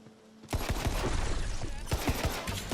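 A dull burst pistol fires in Tiny Tina's Wonderlands, a quiet pause giving way to rapid repeated shots in quick clusters, loud and close, with a final pair of sharper reports.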